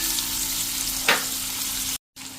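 Sliced onion with spices frying in a pan, a steady broadband sizzle throughout with a brief louder burst as ingredients are stirred, then a short cut to silence before the sizzling resumes.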